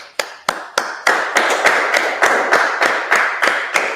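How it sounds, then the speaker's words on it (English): Steady rhythmic clapping at a lively street gathering in Harlem, New York: about a dozen sharp, evenly spaced claps that grow slightly fuller as they go, with no talking. "All right, everybody, let's clap it up."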